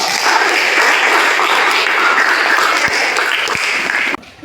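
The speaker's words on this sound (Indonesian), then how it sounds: "kalau begitu kita tepuk tangan dulu nih" Sustained audience applause at the close of a classroom presentation, dense and steady clapping from a group that stops abruptly near the end.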